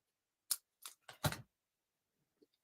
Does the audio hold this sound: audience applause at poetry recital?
no